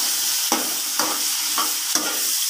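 Garlic and onion dropped into a hot pan for a quick vegetable dish sizzle steadily, with four sharp stirring scrapes at regular intervals, close and with no talking.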